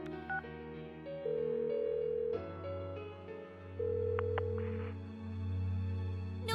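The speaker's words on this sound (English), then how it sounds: "Give her another call." Phone dialing tones in Persona 4 Golden, a string of short electronic beeps followed by sustained ringing tones, clear and alone with game music faintly underneath.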